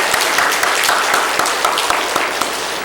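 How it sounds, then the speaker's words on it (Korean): A church congregation claps in thanks, a dense, loud burst of applause from a full hall that holds steady for a few seconds before easing slightly. "감사의 박수 한번 드리겠습니다"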